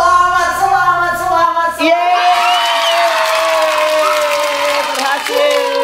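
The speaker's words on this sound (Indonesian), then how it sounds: "Kita kasih tepuk tangan dulu." Children's crowd cheering and clapping after a ghost-hunting dare in a haunted house, shouts and whoops over a musical tone, the clapping thinning into sustained celebratory noise.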